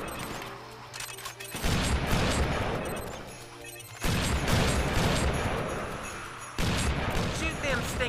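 Gunfire in the Family Guy: Back to the Multiverse video game, heard as dense bursts of shooting and crashing game effects that surge loudly in three waves over steady background game sound.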